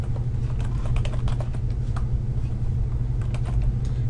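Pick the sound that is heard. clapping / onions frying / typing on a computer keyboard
typing on a computer keyboard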